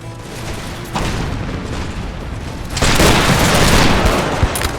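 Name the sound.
cannon and musket fire in Empire Total War video game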